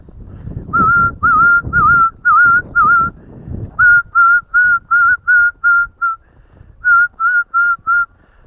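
Someone whistles outdoors in cold weather, a series of short, clear notes in bursts, pausing between groups, with faint rustling in the background.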